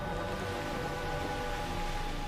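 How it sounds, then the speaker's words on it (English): Steady rain falls in the Andes Mountains, a dense, even hiss that holds at one level throughout the short stretch, with no voices. "As the clouds rise, they cool, releasing their water as rain and as snow."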